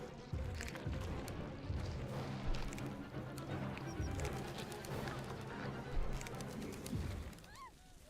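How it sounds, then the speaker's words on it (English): Birds coo softly in the video game Bye Sweet Carole, a few light calls and chirps rising over a busy bed of game sound and a speaking voice, with a brighter call near the end. "Birds helping me out."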